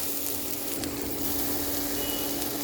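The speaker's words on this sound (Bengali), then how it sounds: "ফুটন্ত গরম পানি দিয়ে দেব।" Rice frying in a pan for white pulao sizzles steadily, a constant crackling hiss at moderate volume with no voices, as boiling hot water is about to go in.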